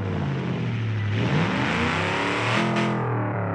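A BeamNG.Drive car engine fitted with Roots superchargers runs loud and close, its droning tone rising and wavering with a gritty whine, with no talk over it.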